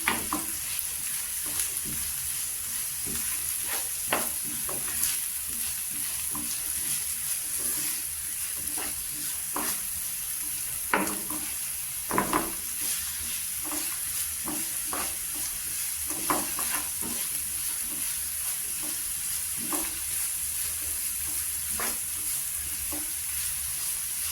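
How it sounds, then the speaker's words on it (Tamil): Two small green chilies frying in hot oil in a pan for drumstick pasta, a continuous sizzle broken by repeated scraping stirs with a spoon, no voices. "இரண்டு சிறிய பச்சை மிளகாயையும் போட்டு எண்ணெயில் கிளறுதல்"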